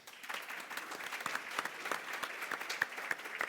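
Conference attendees at a shipping technology event give the panelists a moderate round of applause, scattered individual claps audible within steady, fairly quiet clapping.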